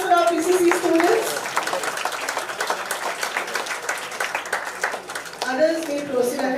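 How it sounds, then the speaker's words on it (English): Audience applause fills an engineering college auditorium in Verna for student project showcases, steady clapping throughout with voices audible at the start and again near the end. "Can we hear a big round of applause for our PCCE students?"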